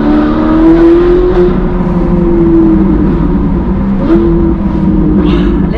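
A powerful Ferrari sports car engine holds a loud, steady growling drone, with brief rises in pitch as it revs, close and continuous throughout.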